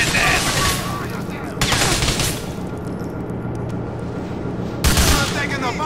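Bursts of gunfire in GTA 4: The Ballad of Gay Tony, loud rapid volleys at the start, around two seconds and near the end over a constant rumbling game soundscape, with voices heard in the background.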